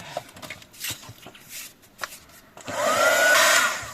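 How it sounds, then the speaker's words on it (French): A heat embossing tool blows hot air for a card-making project. After a stretch of quiet handling noises, a steady, loud, breathy whoosh starts and holds, close to the microphone. "Je vais embosser à chaud."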